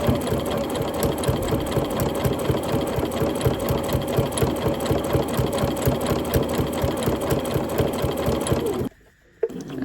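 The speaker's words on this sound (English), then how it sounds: "And then away I go, and I'm just sewing down the open edge." Home sewing machine stitches fabric in a fast, steady mechanical whir with rapid needle rhythm, close and continuous, then stops abruptly near the end.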